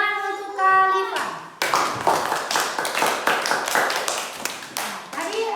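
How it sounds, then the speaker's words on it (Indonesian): After a brief spoken bit at the start, a classroom of children breaks into rhythmic group clapping for a classmate, a series of loud, evenly spaced bursts that continue to the end. "Tepuk tangan untuk Khalifah."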